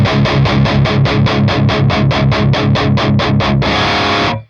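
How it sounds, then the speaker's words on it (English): Crunchy low-gain electric guitar played through an ENGL Ravager IR: a fast run of even, palm-muted chugging chords, then one sustained ringing chord that cuts off, loud and close. "So that's with the gain pretty low. So that should be like a good crunchy tone."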